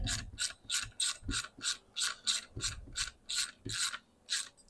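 A ratchet winds down the bolts on a classic Mini gearbox differential unit in quick, evenly spaced bursts of clicking, about a dozen strokes in all, fairly faint and close.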